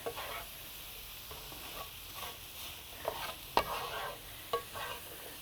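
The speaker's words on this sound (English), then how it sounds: "I'm just going to add that into here. And I'm going to stir that." Cumin, salt and pepper are stirred into a black bean and quinoa mixture, giving soft, scraping spoon strokes with a few sharper knocks, fairly quiet and steady, with no talking.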